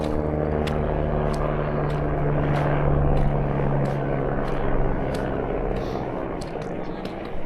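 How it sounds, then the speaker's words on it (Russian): A helicopter flies over a mountain gorge, its steady rotor drone and engine hum loud and sustained, with faint ticking and clicks over the top. "Тишину нарушали только вертолеты, пролетавшие над ущельем каждые несколько минут."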